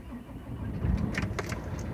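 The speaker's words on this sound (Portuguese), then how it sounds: "Vou dar a partida no caminhão para mostrar o funcionamento" A truck engine cranks and turns over, with low rumbling and a few sharp mechanical clicks, fairly quiet and steady.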